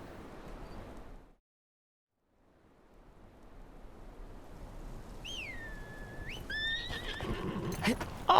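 A horse in the Game of Thrones Kingsroad video game lets out a loud, close whinny that rises and falls in pitch over clip-clopping hooves and a rushing ambient background, after a brief moment of silence.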